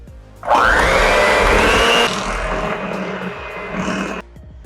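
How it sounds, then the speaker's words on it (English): An electric mixer whirs through pumpkin cheesecake filling, starting with a loud ramping whine that settles into a steady lower drone before cutting off, close and without speech. "we're just gonna mix this until well combined"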